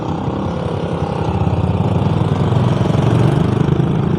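Engine of pipe-laying machinery at a Manila Water roadside work site, a loud, steady, close mid-pitched diesel drone with a rapid knocking pulse that holds without a break.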